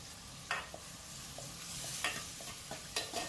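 Onions sautéing with mustard seeds and fenugreek make a soft, fairly quiet sizzle, broken by a few sharp spoon knocks and stirring scrapes against the pan.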